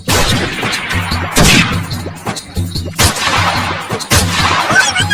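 Gunshots fired in a comic village bandit skit: several sharp, loud bursts at irregular intervals, each followed by a short decaying rumble over a busy background.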